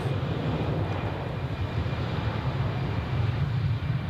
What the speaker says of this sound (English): that's the United with the Star Alliance livery